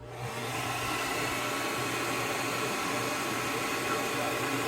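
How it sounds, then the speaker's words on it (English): Steady, loud blowing roar of a heat gun pushing hot air, continuous and unbroken with a low hum underneath. "You just take your blow dryer, your heat gun, whatever you have, and you just heat these up."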